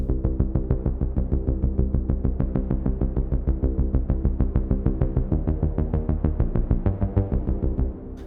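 A solo synth bass loop pulses in steady, rapid repeated notes, loud and dry with no drums or lead, stopping abruptly at the end.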